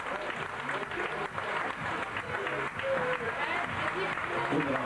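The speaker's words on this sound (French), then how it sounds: "on l'applaudit très fort" An audience claps at a live event, a sustained wash of applause of moderate loudness, with voices talking and cheering over it throughout.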